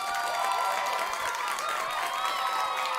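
Crowd cheering and applause fill the space, a steady, loud wash of many voices and claps that holds evenly throughout without breaks.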